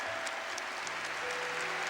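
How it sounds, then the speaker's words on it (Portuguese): Worshippers at a Catholic preaching gathering clap in a dense, steady burst of applause, with soft sustained musical tones lingering faintly underneath. "Aplauda essa verdade aí agora onde você está."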